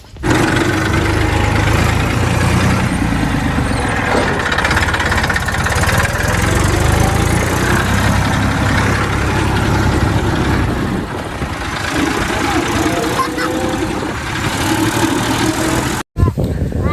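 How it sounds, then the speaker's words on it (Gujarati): A tractor engine runs steadily at a farm field, a loud continuous rumbling drone close by that holds for the whole stretch before cutting briefly near the end. "આપણે ટ્રેક્ટર ખેતરે આવી ગયા છીએ"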